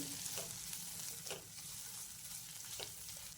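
Onion and capsicum frying in a pan for cauliflower fried rice, giving a soft, steady sizzle with a few quick stirring scrapes, fairly faint overall.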